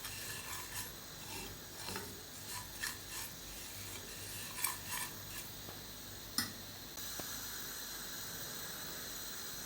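Barley grains scraped and stirred in a hot pan over low heat, a steady dry rasping and rubbing with a few sharper clicks of the spoon against the pan, close and continuous.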